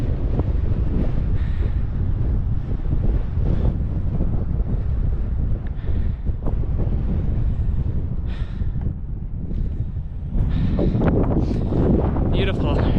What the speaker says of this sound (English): It's not windy at the bottom, but it's ripping up here.